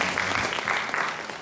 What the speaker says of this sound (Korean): 열심히 또 시작하라고 박수 한번 쳐주시죠.